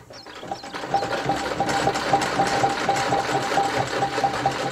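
A sewing machine running steadily in a monastery, a close, continuous mechanical whir with fine rapid stitching rhythm and a faint high whine throughout.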